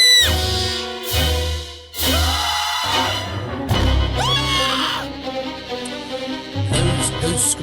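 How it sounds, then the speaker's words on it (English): Homemade recorded screams played on a radio-style show during a top-five horror films segment, a series of loud, sharp shrieks and wails in bursts, some stacked with music-like tones, with no talk over them. "Those screams are homemade, are they not, Ian?"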